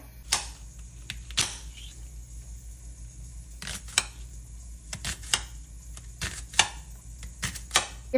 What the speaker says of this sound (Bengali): তো এখন চপ করে নেবো পেঁয়াজ